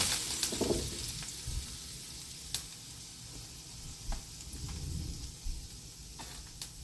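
Soft, steady sizzling of roast potatoes frying in hot oil, with occasional small pops and crackles throughout.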